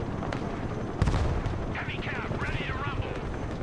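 Tank gunfire in the Broken Arrow strategy game: a heavy boom hits about a second in and rolls into a dense rumble of battle noise, with warbling whistling effects layered above the constant low roar.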